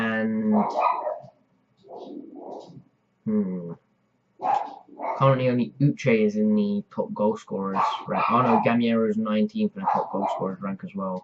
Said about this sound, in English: Apologies for my dog barking in the background again.